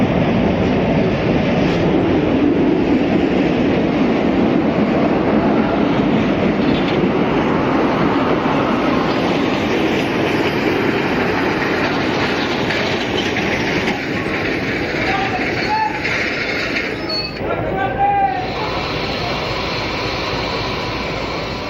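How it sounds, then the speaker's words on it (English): Pacifico Railroad passenger Train 3 arrives at a Mexican station, giving a continuous loud rumble of rolling cars with clacking wheels and a few brake squeals near the end, close by throughout. "A short time later, Train 3 arrives."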